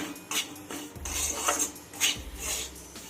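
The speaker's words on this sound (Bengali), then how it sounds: "নেড়ে চেড়ে সুজিটাকে ভেজে নিতে হবে" Semolina (suji) being stirred and fried in ghee over a low gas flame, a spoon scraping and clinking against the pan in irregular soft strokes with faint background sizzle.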